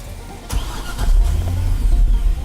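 A Chevrolet Corvette engine cranks over and catches with a sharp burst, then settles into a loud, rumbling idle heard up close.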